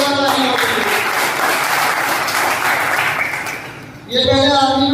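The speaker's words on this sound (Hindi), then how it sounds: "मैं चाहूंगा एक बार इनके जोरदार तालियां होनी चाहिए।" Audience applause for a company MD and CEO at a business plan meeting, loud sustained clapping filling most of the moment before fading, then a voice returns at the end.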